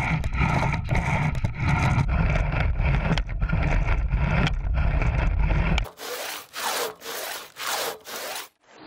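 A saw chain with cutters and rakers chews through wood in a loud, continuous rasping cut, then shifts to five slower, rhythmic strokes, each rising and fading, like a hand saw working back and forth.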